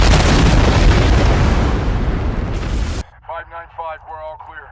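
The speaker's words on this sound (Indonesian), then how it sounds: "Dostum yang gak mau kalah dengan Milo nembakin RPG dari jarak dekat." A rocket-propelled grenade fired at close range in combat, a loud, dense roaring blast that fills the first three seconds before cutting off to a voice talking.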